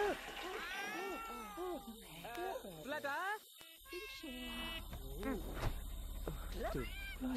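Cat meowing in The Sims 2, several drawn-out rising and falling meows, fairly close, mixed with game music and other in-game sounds.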